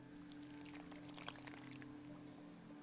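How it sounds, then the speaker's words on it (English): Faint, steady pour of liquid in the video game The Last Door, a continuous soft splashing trickle under a low hum. "Why does it sound like we're pouring some sort of liquid?"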